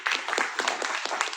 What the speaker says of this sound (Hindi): मैं ताली दूंगा